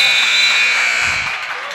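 A basketball game buzzer blares loud and steady for nearly two seconds at the end of a high school half, a harsh sustained tone filling the gym.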